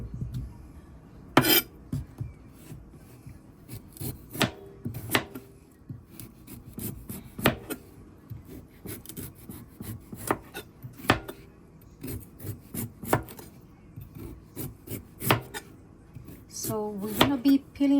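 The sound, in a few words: chopping root vegetables with knife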